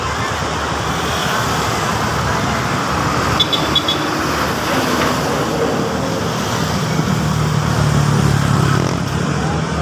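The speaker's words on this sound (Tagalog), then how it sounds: "Nakakatakot, may mga truck." Heavy trucks and other traffic roll along a road during a first-category road bike race, making a steady, loud roadway rumble that holds throughout, with a brief horn toot partway through.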